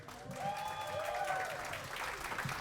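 An awards-night audience gives founder and president emeritus Thelma Calabio a warm round of applause, steady clapping from a sizeable crowd, with a voice talking over it at the start.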